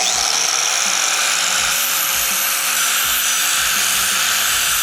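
A power tool grinds paint off rough, jagged metal edges to smooth them before welding, a loud, steady, high-pitched whine running without a break from start to finish.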